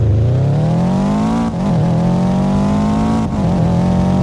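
A turbocharged horizontal-four car launches from a standstill in a Roblox driving game, its engine note climbing steadily through two quick gear changes, loud and continuous with no other sound.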